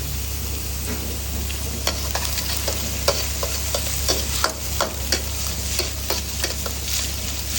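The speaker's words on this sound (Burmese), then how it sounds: "ဒီကနေ့တော့ငံပြာရည်နဲ့ကြော်မှာဖြစ်ပါရဲ့" Fried rice with cumin masala and tamarind, cooked with fish sauce, sizzles loudly in a pan while a utensil scrapes and stirs in irregular strokes, over a constant low hum.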